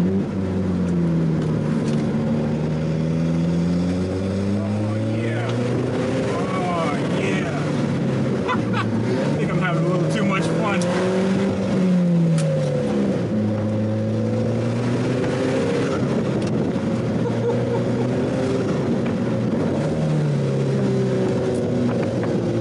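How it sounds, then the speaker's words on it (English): An Alfa Romeo 4C Spider's turbocharged engine drones and rises and falls in pitch under acceleration, loud and close from inside the car, with the wastegate opening as the turbo reaches maximum boost. "wastegate opening up when the turbo reaches max boost"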